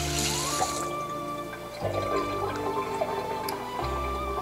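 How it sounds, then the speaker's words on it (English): Tap water runs steadily into a kitchen sink during hand washing while a beef roast is being prepared, a continuous close splashing stream with small drips and clinks, no talking. "I'm gonna wash my hands."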